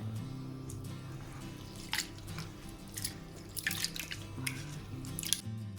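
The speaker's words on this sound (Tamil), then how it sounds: "இப்படி கிளிய வாட்டர் வரத்தக்கதாக கழுவி எடுக்கணும்." Water splashing and dripping in a bowl as soaked lentils are rinsed by hand, with intermittent sloshes and drips, quiet and close.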